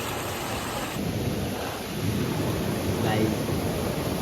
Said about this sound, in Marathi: पाऊस काही कमी होत नाही.